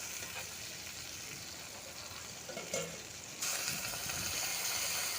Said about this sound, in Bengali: এই যে পেঁয়াজের কলিটা ভাজা হয়েই গেছে, তো এর মধ্যে হালকা একটু জল দিয়ে দেবো